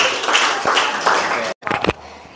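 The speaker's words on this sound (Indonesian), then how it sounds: "Jadi semua hadirin aku coba berikan tepuk tangan dulu" Schoolchildren in a classroom applaud together, a dense wash of clapping that breaks off abruptly, followed by a few scattered claps and faint voices.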